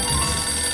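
A telephone rings in the game Sam & Max: Save the World. The burst is brief and steady with a tonal electronic quality and no voices.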